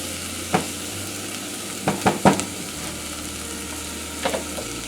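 Onions frying in a pan as the base for a tomato mother sauce, a soft continuous sizzle with a few brief utensil scrapes and knocks, close and fairly quiet, with no voices.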